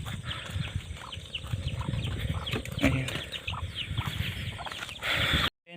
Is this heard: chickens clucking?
yes